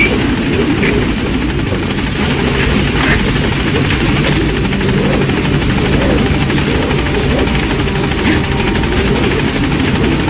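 Helicopter from Metal Gear Solid V hovering near a landing zone, a loud continuous rotor roar with steady chopping thrum filling the whole stretch, no voices.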